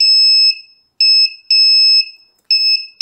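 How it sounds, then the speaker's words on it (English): A piercing Arduino active electronic buzzer beeps in repeated shrill tones of uneven length, alone and loud, like a smoke alarm. "So this is the active buzzer."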